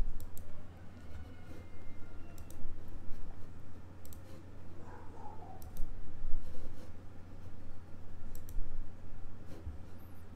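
Computer mouse buttons click while working in QM for Windows, quick sharp taps in small irregular clusters over a low steady hum, with faint background noise between clicks.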